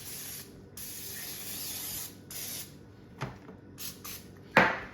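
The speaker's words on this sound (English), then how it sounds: "I'm gonna use some this olive oil by Pam. I'm just kind of spray my pan here." Pam olive oil cooking spray hissing onto a pan in several short bursts with gaps between, close and fairly quiet, ending in a sharper clatter.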